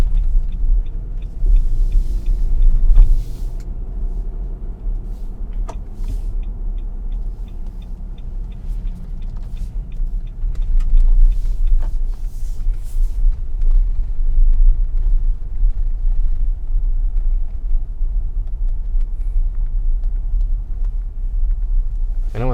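A 2021 Nissan Armada Platinum drives at night and turns left into a parking lot, giving a steady low engine and road rumble with soft tire noise and a few faint ticks throughout.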